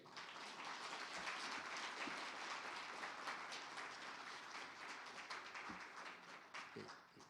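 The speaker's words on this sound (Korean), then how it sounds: "여러분 서로를 위해서 박수 한번 크게 주세요." An audience at a 40th-anniversary ceremony of a Korean information industry federation applauds with dense, continuous clapping. The clapping is faint and distant, thins slightly near the end, and has no voices.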